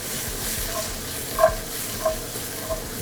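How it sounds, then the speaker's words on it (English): Salmon croquette ingredients sauteing in a pan, giving a steady low sizzle with a few soft stirring knocks spaced about half a second apart. "we're going to saute this off"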